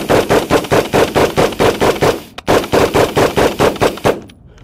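Rapid bursts of gunfire from a Gilboa DBR Snake double-barrel AR rifle ring out close and loud, about a dozen sharp shots in quick rhythm, a brief pause, then another string.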